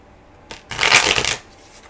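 A short burst of tarot cards being riffle-shuffled, a fluttering rush lasting under a second, then quiet; no talking.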